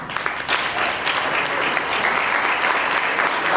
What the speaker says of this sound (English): Let's give Robin Martin a round of applause.